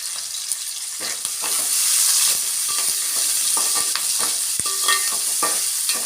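Moong dal khichdi ingredients stirred in a hot pan, a steady close sizzle of frying with repeated scraping and clinking strokes of the spoon throughout, no voices.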